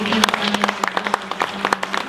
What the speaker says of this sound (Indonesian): Sekali lagi boleh kita beri tepuk tangan